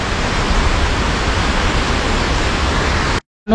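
Girmal waterfall, a 70 to 80 foot drop into a gorge, roars as a loud, unbroken broadband rush that cuts off abruptly near the end before briefly returning.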